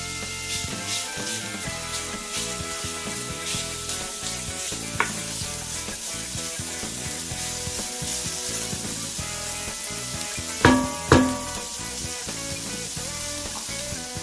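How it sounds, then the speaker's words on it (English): Bacon frying in a hot pan, giving a continuous close crackling sizzle with a couple of louder bursts of spatter near the end, with no one talking. "And let me get that going first by putting the bacon in. Put it into a hot pan."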